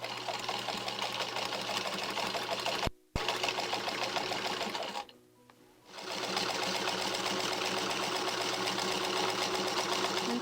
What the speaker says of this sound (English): this machine has a reverse feature which comes in handy for reinforcing